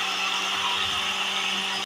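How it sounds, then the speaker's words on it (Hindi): An electric kitchen blender grinding onion with a little water into a paste, a loud steady whirring motor heard close up, running continuously until it cuts off abruptly. "अब इसको हम ब्लेंडर कर लेंगे।"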